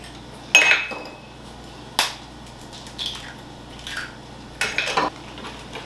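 Four eggs beaten in a bowl for Singapore-style noodles give a handful of bright, irregular clinks of a utensil striking the bowl, loud and close with short pauses between.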